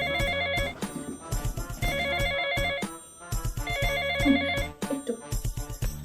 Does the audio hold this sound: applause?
no